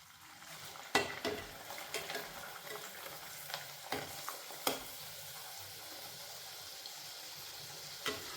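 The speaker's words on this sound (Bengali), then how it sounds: "এবার তেলে ভেজে নেব" Luchi deep-frying in hot oil, made without food colouring, with a steady close sizzle punctuated by sharp clicks and scrapes of a utensil, alone without any talk.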